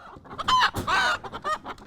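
Older hens that have stopped laying cluck and squawk loudly up close in several short, insistent bursts.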